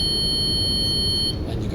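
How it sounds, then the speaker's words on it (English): A morse code key sounds a steady continuous-wave electronic tone as a long dash, cutting off near the end over a low background rumble. "pressing the other side of the key will give you dashes"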